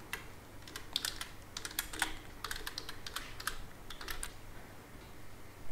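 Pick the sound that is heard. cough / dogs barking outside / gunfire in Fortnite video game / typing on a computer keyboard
typing on a computer keyboard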